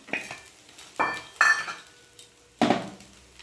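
Spoon stirring and scraping chira pulao, flattened rice, in a pan. Several distinct clinks and scrapes of metal against the cookware come up close, separated by short pauses, with a faint sizzle underneath.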